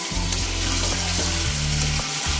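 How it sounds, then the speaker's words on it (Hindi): Water poured into roasted masala in a hot pan sets off loud, continuous sizzling and crackling up close, with a low bubbling and a faint rhythmic hum beneath. "अभी हो गया है मेरा मसाला भुना, तो अभी इसके अंदर पानी दे दूंगी"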